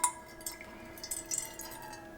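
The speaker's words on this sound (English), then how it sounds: "So I'm going to add 90 mils of water to the pan" Water trickles into a cooking pan on a stovetop, 90 ml poured for cashew fudge, giving a faint, quiet splashing stream with small drips, no talking.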